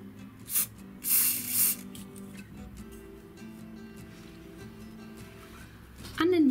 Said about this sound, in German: auf das V werde ich mir jetzt auch Haarspray sprühen